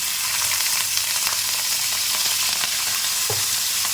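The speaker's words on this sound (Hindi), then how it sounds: "कीमे को अच्छे से भून लेंगे।" Chicken mince frying with ginger and garlic in a pan gives a loud, continuous sizzle, with occasional scraping from stirring and no talking.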